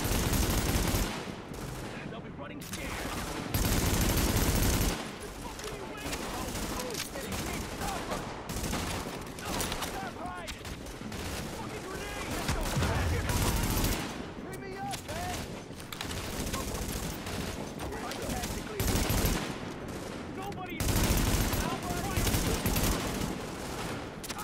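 Dense, sustained gunfire in The Division video game, loud and nearly continuous for the whole stretch, with brief lulls between heavy bursts and voices talking over the shooting.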